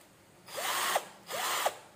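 A cheap cordless hand drill running in two short bursts, each a close, high whir that spins up, holds briefly and cuts off.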